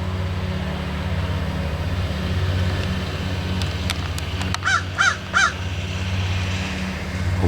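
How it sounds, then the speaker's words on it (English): A large crow caws three times in quick succession near oak trees outdoors, loud over a steady engine drone from a mower running in the background. "A big crow."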